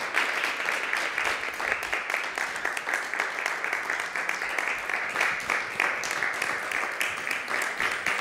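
Sustained applause from an audience at the medius 2024 award ceremony, a dense, steady wash of many hands clapping for the whole stretch.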